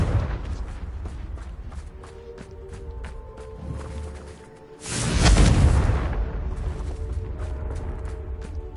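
A Confringo fire spell bursts in Hogwarts Legacy with a loud, booming explosion midway through, standing out over steady game ambience and scattered footsteps.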